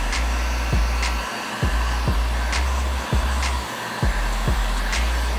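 A heat gun blows a steady, loud, close whooshing hum while heating the edges of vinyl inlays, with a few brief clicks and bumps from handling breaking through the constant airflow.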